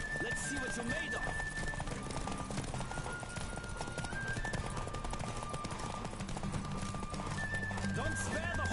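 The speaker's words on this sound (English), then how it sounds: "Don't spare the horse." A horse gallops in a race in The Witcher 3, hooves drumming in a rapid, unbroken rhythm with whinnies and snorts, as a voice talks over the running.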